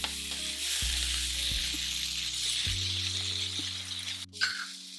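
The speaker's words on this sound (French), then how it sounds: "Le petit bruit de cuisson." Red pesto sizzles steadily in a hot pan, a bright continuous crackle with low background hum and a few soft clinks, fading out near the end.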